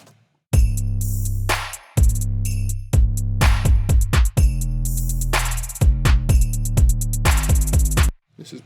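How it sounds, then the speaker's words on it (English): Unprocessed drum tracks from a song mix: loud, dry kick and snare hits in a steady pattern with bright cymbal wash and quick fills, short gaps between phrases, no talk. "So all in all, the drums sound like this."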